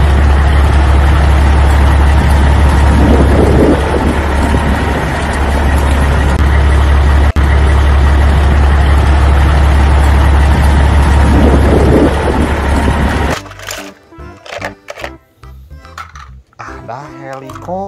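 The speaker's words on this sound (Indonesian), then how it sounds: "Ada mobil truk molen." A concrete mixer truck's engine drones loudly and continuously for about thirteen seconds with a couple of brief swells, then gives way abruptly to quieter, choppy sounds.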